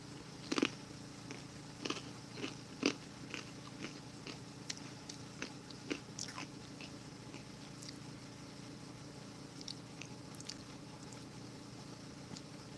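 Chocolate paste from a Russian mountain 24-hour ration is eaten close up, with soft sticky chewing and mouth clicks repeating irregularly over a quiet background.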